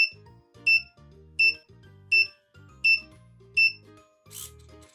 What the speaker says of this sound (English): it closes and beeps